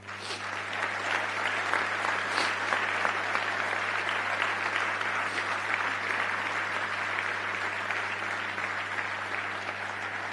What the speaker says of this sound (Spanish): un aplauso a Luis Robledo